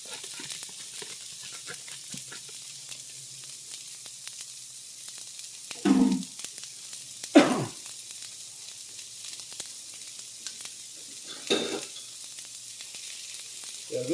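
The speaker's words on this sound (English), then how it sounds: "Got a little sizzle going here" Onions and carrots sizzle in a pan for a chicken and zoodles dish, a steady quiet frying hiss broken by a few louder stirring clatters.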